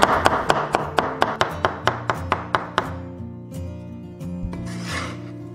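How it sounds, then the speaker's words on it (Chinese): A knife cuts rapidly through a peeled celtuce stem on a board, slicing it and then cutting it into thin strips, giving a brisk, even run of close, crisp chops that slows and gives way to a few scattered taps. "准备1根削皮的莴笋，先切片，然后改刀切丝"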